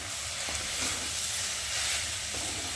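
Leafy greens frying in a pan give a steady, soft hiss and sizzle, heard close up and alone.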